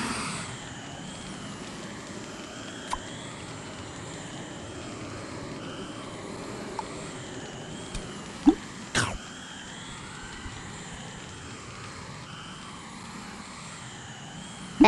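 A steady engine-like whoosh of a jetpack in the children's game Sago Mini School hums throughout, with a few short sharp bursts and clicks, one louder thrust around the middle.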